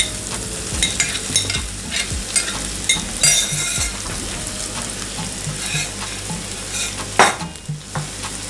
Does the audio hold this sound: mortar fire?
no